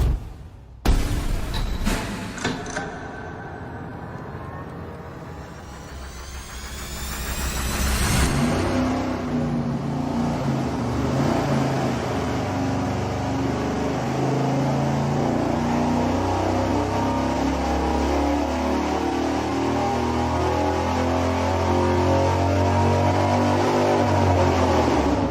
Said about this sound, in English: find out as soon as you fire up this engine